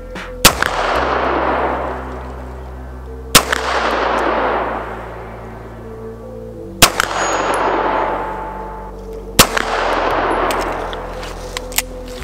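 A Dan Wesson Specialist 1911 pistol fires at a steel target outdoors. Four loud, evenly spaced shots each end in a sharp metallic clang with a long ringing decay.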